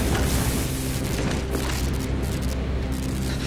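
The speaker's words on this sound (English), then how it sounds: "Mason, blow a hole in that fucking wall." A deep, rumbling explosion blows a hole in a wall in the Call of Duty Black Ops campaign. The dense, heavy boom and roar fill the whole stretch without a break.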